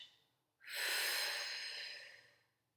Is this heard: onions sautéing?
no